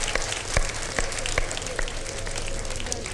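A TV show audience applauds for two mothers, a dense, steady crackle of clapping with a few sharper individual claps, lasting a few seconds without talk over it.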